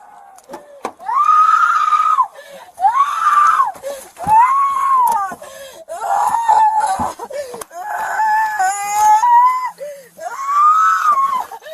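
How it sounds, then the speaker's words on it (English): A woman's loud, sustained screams, a run of long wailing cries separated by brief breaths, close and harsh with nothing else over them. "she been screaming this whole time."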